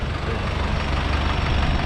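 A used 2010 Hyundai Mighty refrigerated truck idles steadily nearby, a low, even diesel rumble that carries unbroken and alone for the whole span.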